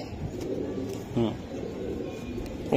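Racing pigeons give a few soft, brief coos close by, with muffled voices and room noise in the background.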